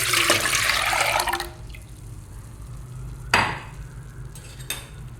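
Soaked barley and water pour into a cooking pot in a loud, splashing rush for over a second, then stop, with a few faint clinks and a sharper knock of the pot afterward.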